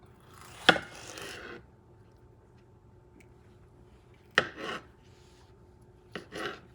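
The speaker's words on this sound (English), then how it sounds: "Using the proper knife, let's say I'm going to cut it in" A kitchen knife slices tomatoes into quarters for roasting in cast iron, making three separate close cuts, each a sharp thunk on the board followed by a short scrape, with quiet pauses between.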